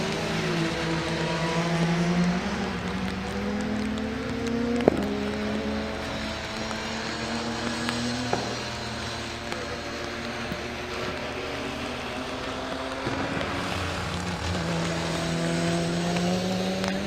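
Super Tourer race cars, including a Renault Laguna, circulate at Oulton Park circuit, their engines rising and falling in pitch as several pass in succession, loud and continuous with no talk.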